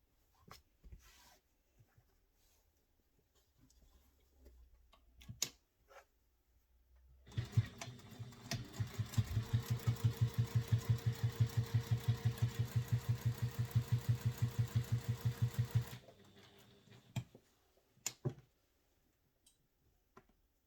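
A sewing machine stitching a handbag runs for about eight seconds in a fast, even mechanical chatter, loud and close, framed by quiet handling clicks and fabric rustles before and after.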